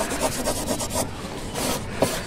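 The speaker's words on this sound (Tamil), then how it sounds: "ஸோ இப்போ இந்த லைட்டாக தேய்ச்சோன்னாக்கா இதில் போகுது பாருங்கள்" A cloth rubbing scratch marks out of the paint on a Honda Dio scooter, giving quick, close rhythmic swishing strokes that pause briefly before resuming, with no voices.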